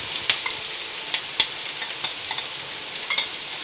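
Tomatoes go into a pan of softened onions for rava kichadi, bringing a soft, steady frying hiss broken by a few sharp clicks and pops, close but fairly quiet, with no talking.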